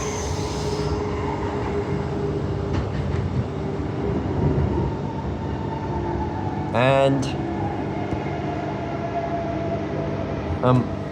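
A train rumbles steadily on the line at New Midland Station on the Perth Metronet, a long low rolling noise with brief high squeals, while someone talks over it.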